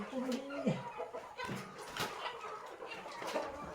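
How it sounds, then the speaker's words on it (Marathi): Free-range village hens cluck in short bursts close by, with people talking over them in a rural setting. "कोंबडी कोंबडी"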